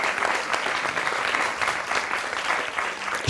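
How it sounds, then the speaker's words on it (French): Audience applause at a French talk on museum mediation, steady dense clapping from a crowd filling the whole stretch at an even level. "on peut applaudir Anne-Sophie"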